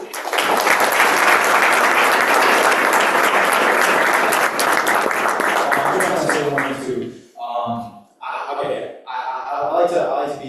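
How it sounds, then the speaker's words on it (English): A crowd at a New York City tech meetup applauds loudly and steadily for several seconds, then the clapping thins out and talk and scattered sounds take over toward the end. "a round of applause for Farzi"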